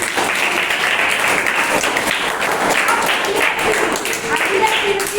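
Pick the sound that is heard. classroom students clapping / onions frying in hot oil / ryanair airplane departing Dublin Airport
classroom students clapping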